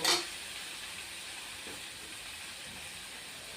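Water poured into a pan of Bengali-style mutton curry with potatoes, cooked down with sour curd: a sharp burst of hissing at the start, then a steady, fairly loud broadband sizzle and steam hiss that continues alone.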